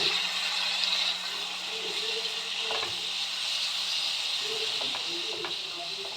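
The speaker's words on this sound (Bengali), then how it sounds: "এই মশলার সাথে সবজির সাথে আমি এগুলো কষিয়ে নিচ্ছি।" Broken wheat being sautéed with spices and vegetables in a pan, a continuous soft hiss and sizzle with a few faint clinks of stirring, fairly quiet and close.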